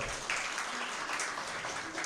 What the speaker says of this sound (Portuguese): Aplauso aí para ele.